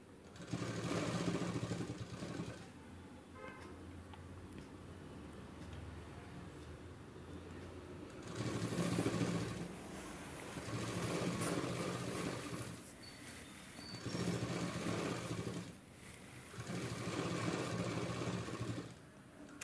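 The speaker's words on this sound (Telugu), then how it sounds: "ఇలాగ స్లోగా కుట్టుకోవాలండి మీకు అర్థం కావాలని చెప్పేసి స్లోగా కుట్టు కుడుతున్నాను" A sewing machine stitching piping at a slow pace, its whirring motor rising in several separate runs between quieter pauses, close but fairly soft, with no voices.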